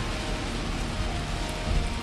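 Steady, dense storm rain hisses continuously beside a heavily traveled road in western North Carolina, with a low rumble underneath and no voices.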